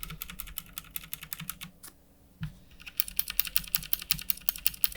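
Close, steady typing on a mechanical keyboard fitted with TTC tactile key switches, a quick run of crisp clicks, a brief pause near the middle, then another brisk run of keystrokes with no talking.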